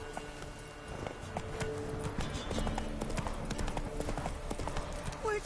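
Horse hooves clip-clop steadily at a trot in The Witcher 3, a continuous rhythmic patter with a faint voice underneath.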